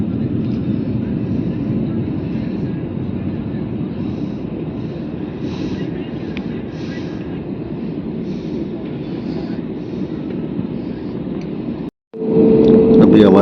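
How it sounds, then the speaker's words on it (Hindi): An IndiGo passenger jet rolls slowly along the runway before takeoff, heard from inside the cabin as a steady low engine hum and drone. A brief dropout near the end is followed by a louder burst. "देखिए तैयारा अपनी पोजीशन लेते हुए रनवे पर मौजूद है और अभी टेक ऑफ होगा"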